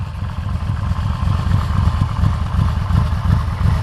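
A 2002 Yamaha VMAX motorcycle engine with factory exhaust running steadily nearby, a throaty low putter with slight fluctuations in rhythm, no talking.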